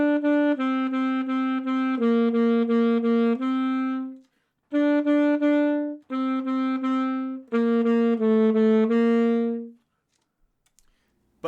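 A melody for a song, played on a bright, reedy synthesized instrument. Clear sustained notes come in short phrases with brief gaps, alone and fairly loud, and the tune stops before a quiet tail.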